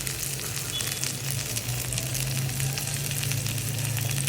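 Chopped garlic fries in a pan for a bharta, a close, continuous crackling sizzle that holds steady throughout.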